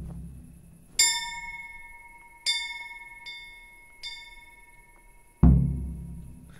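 A church bell rings in the medieval video game Kingdom Come: Deliverance with four clear metallic strikes spaced a second or so apart, each ringing out and decaying, followed by a dull heavy thud. There is no talking.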